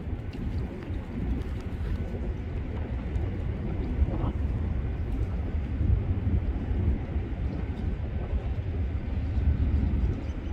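An Aer Lingus flight from Dublin landing at an airport, heard as a steady, low jet rumble and roar lasting throughout, moderately loud and distant, with no clear speech.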